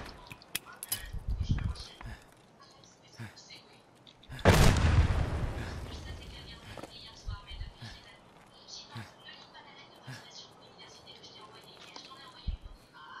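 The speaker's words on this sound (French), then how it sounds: "Je lance des grenades." A grenade detonating in the video game Escape from Tarkov, one loud blast with a long decaying rumble midway, amid scattered clicks, footsteps and quieter pops, with voices talking at times.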